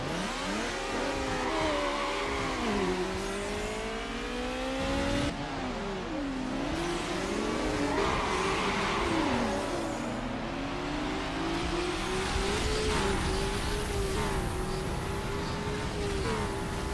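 Car engine in the Need for Speed: Underground racing video game, revving loudly and continuously with gear shifts and sweeping pitch changes, close and steady throughout with no talk.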